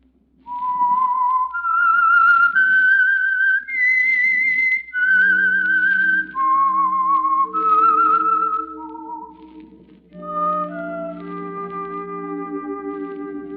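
A clear, melodic whistled tune rings out alone, sustained notes sliding and stepping, followed by soft orchestral chords underneath.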